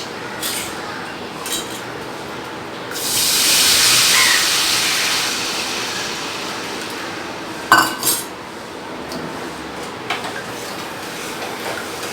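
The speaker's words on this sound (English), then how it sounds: "add it to the pan where I have already fried the fish" Sauce goes into a pan of fried bhetki fish with a swelling hiss of steam, followed by quieter sizzling and a few sharp clinks of a utensil against the pan.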